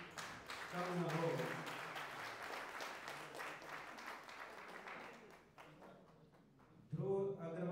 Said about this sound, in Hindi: तालियां आपकी कम न हो।